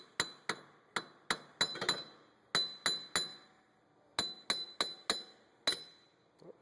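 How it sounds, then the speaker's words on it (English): Metal taps ring out on a 2009 Subaru Outback rear wheel hub assembly being freed. About sixteen sharp clinking hits come in uneven bursts, each with a bright ringing decay, close and alone. "To give this a few taps or something like that to get it off"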